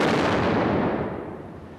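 A single loud, close gunshot blast in an armed confrontation, its broadband burst decaying over about two seconds with no talk.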